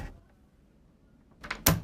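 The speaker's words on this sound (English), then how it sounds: "That is putting a key into an office door, turning the key, and unlocking the door." A key pushed into an office door lock and turned to unlock it, heard as a quiet rattle then two crisp close clicks of the latch, with no voices.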